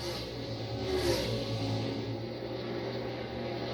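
A NASCAR Cup Series race car engine drones on track at Nashville, a steady, loud mechanical roar that swells briefly and then holds, with no voices.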